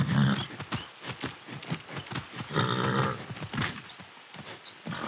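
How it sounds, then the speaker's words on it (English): A horse ridden in the video game Far Cry 6 trots with a quick, steady clip-clop of hooves, close and prominent, accompanied by a few snorting breaths. "That's a good horse."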